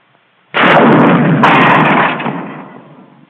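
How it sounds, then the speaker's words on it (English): A 1943 US Army bazooka fires its rocket from the launcher tube: sudden loud blast after a brief silence, a second sharp crack, then a roaring rush that slowly fades. "It takes a little time for the rocket to get out of the tube."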